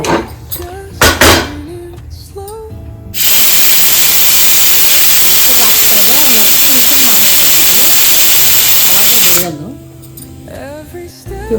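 A loud, steady hiss of escaping steam from a pressure cooker cooking horse gram runs for several seconds, with a voice talking before and after it.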